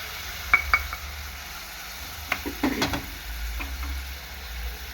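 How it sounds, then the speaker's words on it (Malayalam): Tamarind water splashing into a hot frying pan with coconut while cooking a roasted-coconut ginger curry, with brief clinks and a steady sizzle that rises afterward, heard close up with no talking. "നമുക്ക് ആ പുളി അങ്ങ് ഒഴിച്ച് കൊടുക്കണം"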